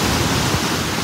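Steady roar of ocean waves washing onto a beach at night, a dense wash of surf noise filling the air with no pauses or voices.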